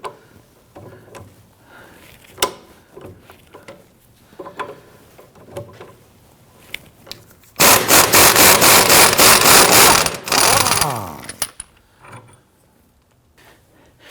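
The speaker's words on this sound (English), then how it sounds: "then we'll put our impact gun on there" An impact gun loosens a rear shock bolt on a 2009-2017 Volvo XC60, firing one loud, sustained hammering burst of about two and a half seconds after scattered clinks and tool handling.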